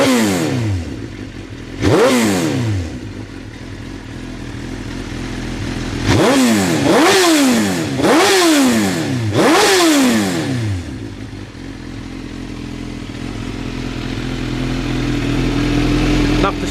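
Close, loud revs from a motorcycle titanium exhaust: one sharp blip, then a quick run of four aggressive throttle blips. Between them the engine idles with a rough, lumpy burble.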